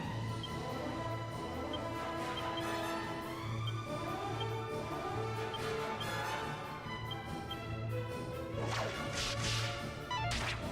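A whip attack in the PS2 game Dragon Quest VIII cracks with sharp snapping lashes over steady looping game music, a few swishes scattered through the passage.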